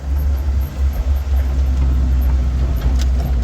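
A cold 1984 Toyota pickup truck drives slowly around a yard. Its engine gives a loud, steady, low rumble close by, with no talking.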